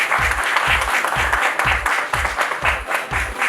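Loud, dense applause from a crowd at a Punjabi dance competition, with rhythmic clapping and a low beat pulsing underneath throughout.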